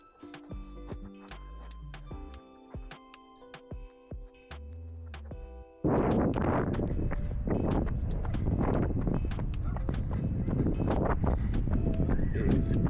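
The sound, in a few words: wind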